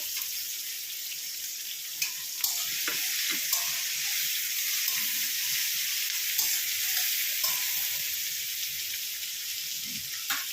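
Chopped onion, green chilli and garlic frying in a pan of hot oil for an egg curry, a loud continuous sizzle with occasional stirring scrapes and clicks, no voices.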